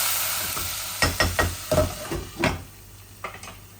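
Onions cook in a salted pan with a soft sizzle, broken up by several sharp scraping and stirring knocks of a utensil against the pan, close and clear with no talking.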